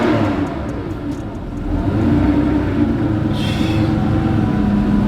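An early-1990s car engine revving up close, a deep throaty rumble that swells and holds steady, loud throughout with a faint higher whine on top.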